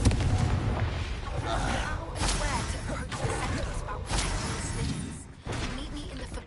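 Confringo fire-blast spell in the Hogwarts Legacy video game, a series of booming, crackling explosions over several seconds amid busy combat noise, with a voice in the background.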